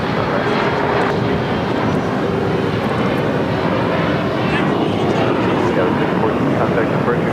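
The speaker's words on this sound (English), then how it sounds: "that is United Airlines and the Star Airlines livery, flight 2445, coming from Newark at 777" A United Airlines Boeing 777 in Star Alliance livery arrives from Newark at LAX, its engines giving a steady, loud broadband roar that holds for the whole stretch, with voices talking underneath.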